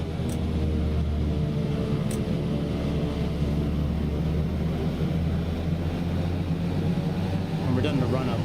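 Steady turboprop drone of a Black Square BE6 aircraft engine running up to 1,500 RPM in Microsoft Flight Simulator, a loud constant hum under spoken cockpit talk.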